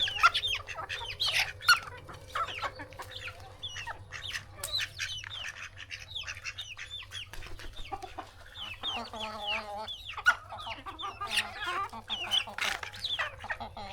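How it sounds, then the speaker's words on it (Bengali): Village hens clucking steadily in a farmyard, with a duck nearby being pecked at; the clucks are close, overlapping and busy throughout, with a burst of louder calls toward the end. "আমার হাঁসে দেখে মুরগি ঠুকাইতেছে"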